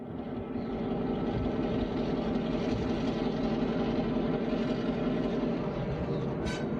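Union Pacific DDA40X diesel locomotive 6930 at the Illinois Railway Museum, a steady loud engine drone with heavy low rumble holding constant throughout, no talk over it.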